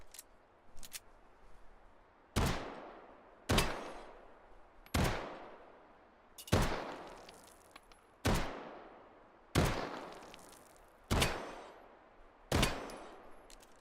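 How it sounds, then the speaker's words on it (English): Nine loud pistol shots from a Luger handgun in a VR shooting game, fired one at a time at a steady pace of about one every one and a half seconds, each with a sharp crack and a decaying echo, after two fainter clicks. "So I'm going to shoot a little bit more."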